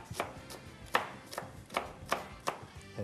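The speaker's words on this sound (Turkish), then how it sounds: "Evet, şöyle soğanımızı güzelce bir şekilde, çok ince bir şekilde doğramamız gerekiyor" A knife finely chops onion on a board in a steady rhythm of about eight crisp, close taps spaced evenly apart, with no talking.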